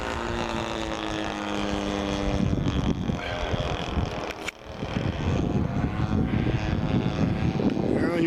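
A model B- airplane makes a low pass, its engine a loud, steady drone with a tone that shifts partway through, mixed with rushing wind noise throughout.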